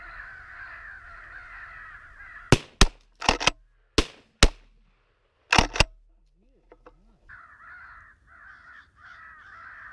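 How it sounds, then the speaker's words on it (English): Sharp, loud gunshots ring out during a crow hunt in Kansas: about eight quick cracks in uneven pairs and clusters, with crows cawing steadily before and after and a lull between. "Well, you got some shots off."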